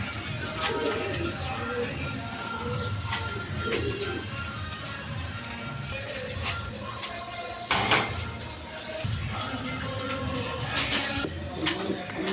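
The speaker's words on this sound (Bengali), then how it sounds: "এক পেয়ার কবুতর আছে আপনার, বোম্বাই টইল নর, রেড কালার, আর ডেনিশটা মাদি।" Pigeons of Bombay and Danish breeds coo softly at a bird seller's stall, low repeated calls under a faint voice, with a sharp clatter or knock partway through.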